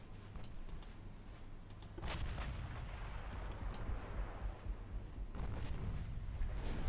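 Naval main-gun ranging shots in the Ultimate Admiral Dreadnoughts battle game, France against Spain: a rolling series of distant artillery booms over a steady low sea-and-engine rumble, heavier thumps building in the second half.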